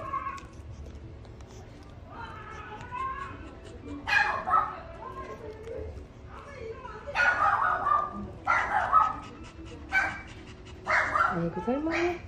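A dog barks and yips in short bursts, whining and whimpering between them, fairly close by, while someone talks over and between the sounds indoors.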